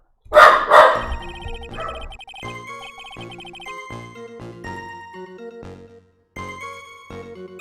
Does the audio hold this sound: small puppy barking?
yes